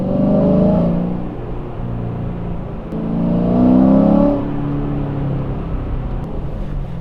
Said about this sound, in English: at least we can get a cold start on the Camaro